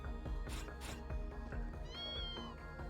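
A cat meows a few times in the video game Tokyo Xanadu eX+, the short cries sitting over a steady loop of game music.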